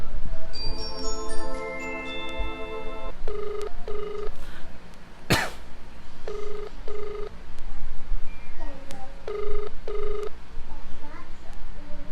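Telephone call being placed: a run of rapid dialing tones, then a sharp click, followed by repeated paired ringback tones at a steady rhythm, clear and fairly loud against a faint room background.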